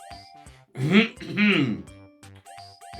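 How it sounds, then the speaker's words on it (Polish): A voice acts out clearing his throat twice for a children's audiobook, two rough, voiced rasps close to the microphone between brief spoken sounds, performed rather than natural. "tatuś chrząknął dwa razy"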